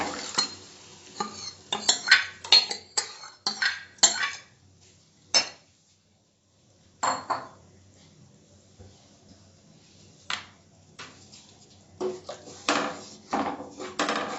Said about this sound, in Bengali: এবার সেদ্ধ ডালটা দিয়ে দেবো।